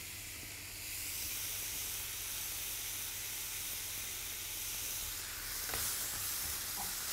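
Seasoned food with salt, pepper and parsley cooks in a pan, giving a steady close hiss and sizzle that carries on evenly, with a few faint clinks near the end and no talking.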